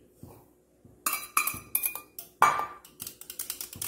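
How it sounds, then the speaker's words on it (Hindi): Yogurt and gram flour being mixed in a bowl for turai kadhi, heard as a string of sharp spoon clinks and taps against the dish after a quiet start. "अब दही और बेसन को हम एक साथ मिक्स कर लेंगे"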